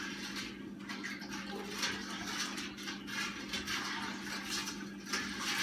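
Cane sugar being stirred into kvass liquid makes a quiet, continuous watery swirl and slosh with no voices.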